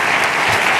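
A brief burst of continuous audience clapping at a conference, thick and steady from start to finish.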